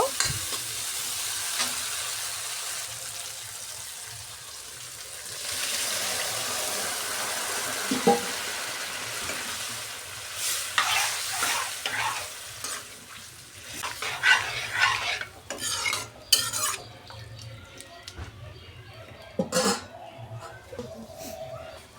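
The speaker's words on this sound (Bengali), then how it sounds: "এবার কাবলি ছোলাটা দিয়ে দেব।" Boiled chickpeas added and stirred into spice masala frying in oil, a continuous sizzle that grows busier with repeated spoon scrapes and knocks against the pan in the latter half.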